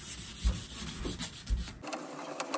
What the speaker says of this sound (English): right here I am using 400 grit sandpaper just to give it a light scuff sand